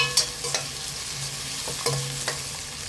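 Onions sizzle steadily in a hot pan for a radish and egg stir-fry while a spoon scrapes and stirs, with occasional clinks against the metal.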